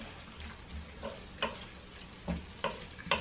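A spoon stirs oyster sauce in a pan, producing soft scraping strokes and scattered light taps at an irregular pace over a faint background sizzle, close and fairly quiet.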